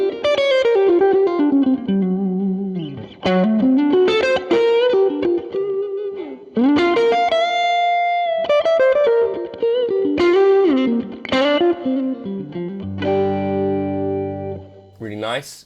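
A distorted electric guitar through a Jan Ray overdrive into a Princeton amp with vibe reverb plays a flowing lead phrase with slides and ringing held notes, thick and slightly throaty with a reverberant tail.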